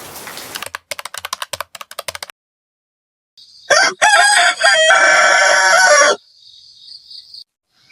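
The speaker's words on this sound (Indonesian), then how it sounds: "mah ayam dari pagi berisik banget" Rapid keyboard-like clicking, then a silent pause before a rooster crows loudly and close, a long strained cock-a-doodle-doo trailing into a faint tone.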